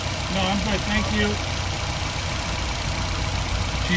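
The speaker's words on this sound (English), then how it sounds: "idling like a champ" A Nissan car engine idles steadily under a constant mechanical hum after a P0300 misfire repair, with brief faint talk early on.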